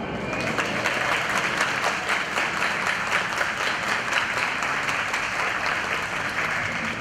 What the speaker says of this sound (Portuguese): o aplauso é para vocês também